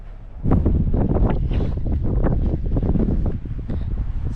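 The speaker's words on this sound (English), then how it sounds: "It's not too cold, it's just windy." Strong wind buffets the microphone in Utah's LaSalle Mountains, a steady low roar with gusty rumbling throughout, loud and close.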